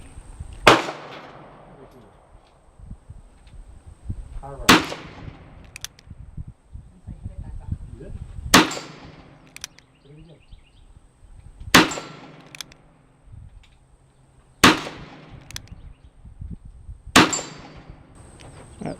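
.32 H&R Magnum handgun shots with 115-grain round nose flat point loads fire outdoors, five sharp loud reports spaced several seconds apart, with faint handling noise and quiet activity between shots.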